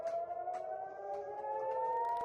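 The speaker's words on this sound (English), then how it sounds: "Sirens sounded in Tel Aviv as residents were seen running for cover" An air raid siren wails over Tel Aviv in a long, steady tone that slowly rises in pitch, heard from a distance with faint background noise and no voices.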